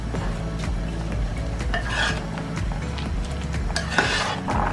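Spinach and rice simmering in anchovy-kelp broth are stirred in a pot, a close, continuous scraping and sloshing with occasional utensil knocks against the metal.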